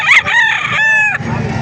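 Rooster at a chicken market in Calumpit, Bulacan, letting out a single loud, close crow with rising and sustained harmonic notes, trailing into a rough breathy finish.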